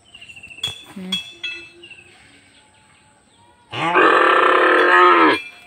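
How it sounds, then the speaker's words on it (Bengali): A calf calling for its mother before milking lets out a loud, drawn-out moo near the end, after a few faint clinks and quiet animal noises. "বাছুরটা দেখো আরও ডাকছে"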